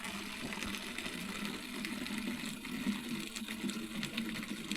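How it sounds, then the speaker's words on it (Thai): Steady trickling mountain water runs continuously through a bamboo pipe, a constant splashing flow with no talk, moderately close. "น้ำไหลจากภูเขาพี่น้อง"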